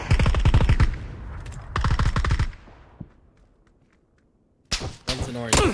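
Automatic gunfire in the battle-royale video game PUBG, with rapid bursts close and loud, a gap, then several sharp shots returning near the end.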